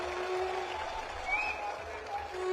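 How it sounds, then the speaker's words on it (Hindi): A crowd at a political rally claps steadily, a continuous wash of applause with a faint voice or whistle rising through it. "एक बार जो तालियां, जो आपका प्यार मिल रहा है"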